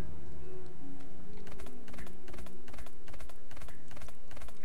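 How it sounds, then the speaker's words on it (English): Horse hooves clip-clop steadily in the video game Death's Gambit as the rider travels, a quick rhythmic patter of hoof falls layered over continuous background music. "I'm going to take my little horse."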